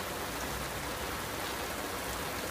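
Steady rain pours down on open ground where lion cubs and young lions shelter, a dense, even hiss of drops holding at a constant level with no pauses and no voices.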